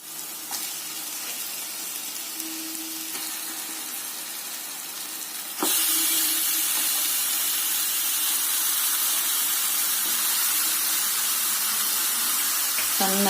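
A kilogram of chicken pieces goes into a hot pan for a gravy chicken curry, and the steady oily sizzle jumps suddenly louder partway through, then holds as a dense, close hiss.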